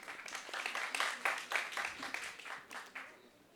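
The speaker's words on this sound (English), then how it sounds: "Let's give them all a big round of applause." Applause from the audience at an inauguration ceremony, a fairly faint patter of many hands clapping in uneven swells that tapers off toward the end.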